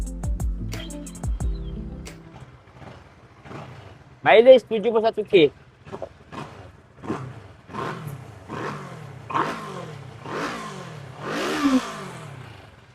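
A Kawasaki ER6 motorcycle with its standard exhaust and 71k on the clock is revved again and again, each throttle blip rising and falling in a regular rhythm. Shorter bursts come before the revs and a brief voice is heard at the start.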